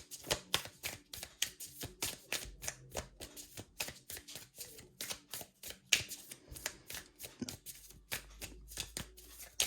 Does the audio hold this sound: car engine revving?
no